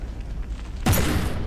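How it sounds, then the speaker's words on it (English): A shell strikes a battleship turret in the From The Depths naval game, a sudden loud boom and crash after quieter low rumble, decaying over the last half second. "Ooh, that shell penetrated straight through the turret there."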